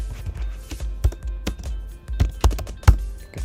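Typing on a computer keyboard, a quick irregular run of close, distinct key taps with a few heavier strokes, heard alone in a quiet room.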